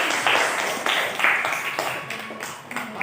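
A classroom claps together, a dense patter of many hands at moderate distance that gradually thins and fades over a few seconds.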